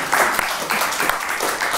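An audience claps at a live gaming show at Games Week, a dense burst of applause that swells and dips in waves across the whole moment, with faint voices underneath.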